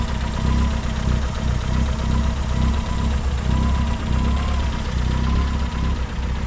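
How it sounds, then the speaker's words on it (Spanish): A Nissan Tsuru II car engine with a carburetor and timing belt runs steadily at idle, a continuous low rumble heard close up with no talking over it. "aquí está ya el motor y funcionando"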